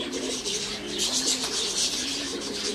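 Homing pigeons coo steadily at a winter loft, a continuous layered murmur of low throaty calls from several birds close by, with no talk over it.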